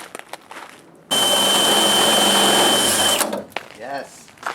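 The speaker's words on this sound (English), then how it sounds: "drilling through my hood as you do on a Saturday" A loud electric drill whines steadily for about two seconds, boring through the metal hood of a Jeep XJ, with brief talk and clatter before and after.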